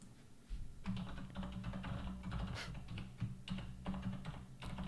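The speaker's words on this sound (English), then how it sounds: "It's a loud keyboard you have." Rapid, irregular clacking of keys on a loud homemade computer keyboard, close and steady, with a low hum running underneath.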